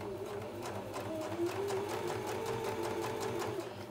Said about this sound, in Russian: Строчу нитками в цвет, длина стежка 2 мм.